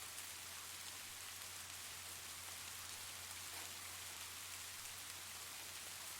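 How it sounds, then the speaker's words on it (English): Soft rain falls steadily against a window pane, a dense, even hiss of countless tiny droplet taps with no voices, calm and unchanging throughout. "the soft, rhythmic tapping of raindrops on the windowpane"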